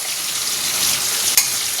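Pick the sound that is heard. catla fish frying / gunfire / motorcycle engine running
catla fish frying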